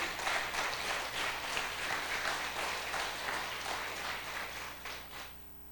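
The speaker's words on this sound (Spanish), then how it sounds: "Vamos, darle un aplauso a Dios." A church congregation applauding, with many hands clapping together at a moderate level through the whole stretch and a low steady hum underneath, easing off slightly near the end.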